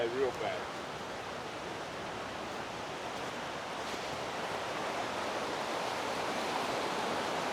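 Swollen river running high and fast at a fishing spot, a steady broadband rush of water that stays loud and constant throughout, with a voice briefly audible at the very start.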